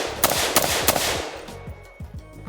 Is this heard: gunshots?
yes